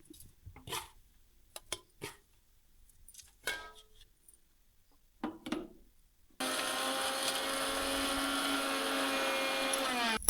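Scattered clicks and clatter, then a mixer grinder grinding coconut roars to life and runs steadily and loudly to the end, with a constant whirring drone.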